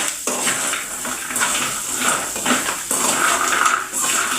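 Roasted peanuts are stirred in a pan with masala for a crispy peanut chaat, giving a close, continuous rattling and scraping clatter with steady rhythmic surges.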